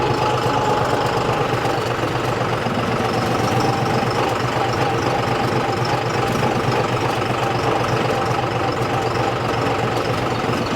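A John Deere tractor's diesel engine runs steadily and loud throughout, a continuous close idling rumble with a knocking, vibrating texture and no talk.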